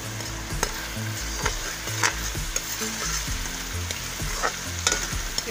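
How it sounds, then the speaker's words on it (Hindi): Garlic ginger paste sizzles steadily in a hot pan with onion paste as a spoon scrapes and stirs it in regular strokes, close up, with no talking. "लहसुन अदरक की पेस्ट डाल दूँ।"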